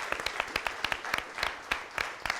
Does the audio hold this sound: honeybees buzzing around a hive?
no